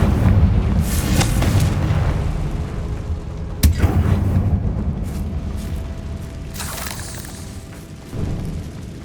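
Confringo spell explosion in the video game Hogwarts Legacy: deep booming blasts with a sharp burst near the middle and a rumbling tail, followed by another muffled boom near the end.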